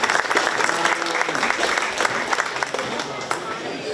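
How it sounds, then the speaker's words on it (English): Crowd clapping at a 4-H/FFA market beef cattle show at the 2025 Shelby County Fair, steady applause in an open arena with a voice and crowd murmur mixed in beneath it. "Let's give them a round of applause."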